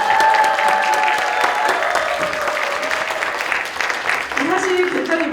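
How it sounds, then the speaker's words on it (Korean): Steady audience applause at a Korean political forum, sustained dense clapping from a seated crowd filling the hall for several seconds, with a voice briefly heard near the end. "미르동제에게 박수 한번 부탁드립니다"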